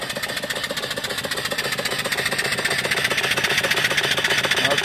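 A small steam engine with a flyball governor, run from a 12-inch-diameter boiler, chugs steadily in a fast, even rhythm, close and continuous with no talking.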